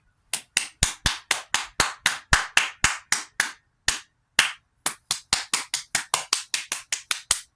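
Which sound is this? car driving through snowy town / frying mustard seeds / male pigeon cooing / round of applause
round of applause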